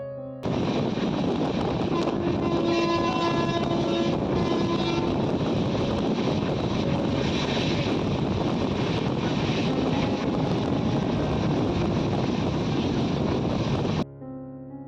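Ride inside a moving train in India, heard from the carriage: a continuous loud rumble and wind-like roar with faint tonal hums, cutting off abruptly near the end.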